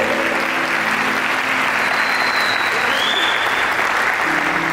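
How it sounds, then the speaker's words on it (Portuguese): A church congregation applauds loudly and continuously, dense clapping with faint tones and a brief whistle-like note in the background. "Aplauda a igreja."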